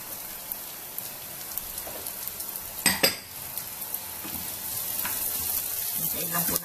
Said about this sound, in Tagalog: Hintayin lang po natin itong ma-brown ng konti sibuyas, maluto.